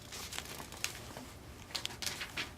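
A paper page turns while someone reads poetry aloud, giving a few soft crinkling and rustling sounds close by, with brief crisp peaks near the end and no speech over it.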